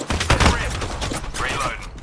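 Rapid gunfire crackles in the battle royale shooter Apex Legends, a dense burst of loud, close shots with overlapping impacts across the whole moment.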